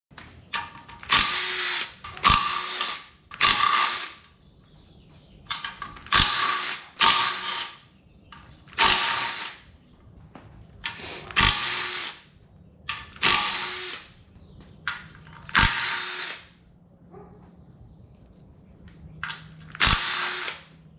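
A power tool spins out bolts from the timing cover of a Nissan VQ35DE engine, giving about a dozen short, sharp whirring bursts near and loud, separated by quiet pauses.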